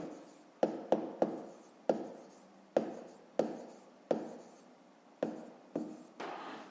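Pen or pencil writing out a fifth-grade maths exercise on paper, heard as a series of about eleven distinct close strokes and taps, each with a short scratching tail, in a quiet room with no talk.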